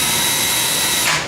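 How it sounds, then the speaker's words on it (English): A power drill whines steadily, close and loud, as it backs bolts out of an F-14D Tomcat scale model, then winds down at the end. "taken the majority of the bolts out of these things so you guys don't have to listen to the drill"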